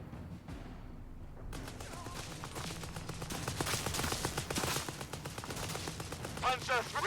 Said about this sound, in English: I believe we can bombard them this time.